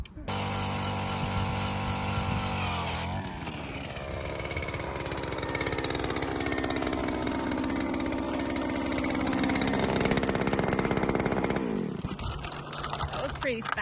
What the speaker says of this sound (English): drill the first hole of the season